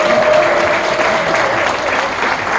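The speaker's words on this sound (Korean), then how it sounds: "김경아 의장님께 여러분 큰 박수와 함성까지 부탁드리면 어떨까요?" A large audience at a Jeju forum on population aging and low birth rates bursts into loud, sustained applause and cheering, with dense clapping and a whistle-like tone carrying through the first seconds.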